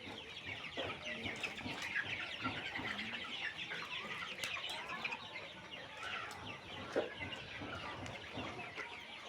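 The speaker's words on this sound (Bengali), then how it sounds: "মুরগিগুলো দেখেন কত সুন্দর, চকচক চকচক চকচকানো আছে" A flock of month-old chickens on a poultry farm clucks and chirps continuously, many birds overlapping at moderate distance with no voices.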